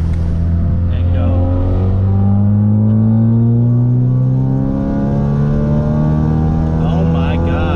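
2017 Ford Focus RS on Stratified E30 fuel accelerating hard from 2,500 RPM, engine note climbing steadily and loudly in the cabin for the whole stretch.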